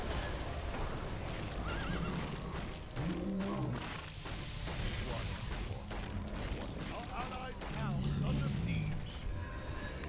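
A horse in a hero defense video game neighs and whinnies amid busy combat effects and clip-clopping hooves, while a player talks over the action.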